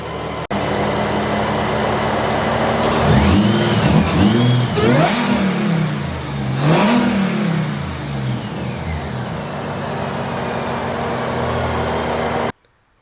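A Mercedes SLK32 AMG engine idles, then revs up sharply three times in quick surges before settling back to a steady idle, loud and close.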